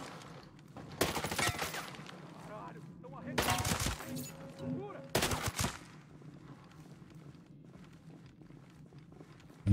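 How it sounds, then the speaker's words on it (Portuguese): Three loud bursts of rapid gunfire in a sniper video game, each about a second long, cut through a quiet, low background. "Eles estão levando tiro."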